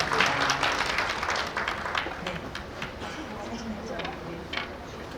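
Clapping from an audience at a memorial ceremony and award presentation, strong at first and then thinning into scattered claps, with voices murmuring beneath.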